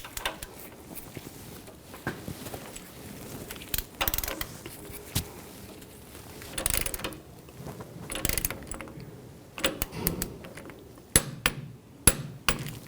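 A torque wrench tightens a front sway bar link nut on a 2014-2018 GMC Sierra, giving scattered close metallic clicks, ratcheting and clanks amid shop noise, irregular and without talk.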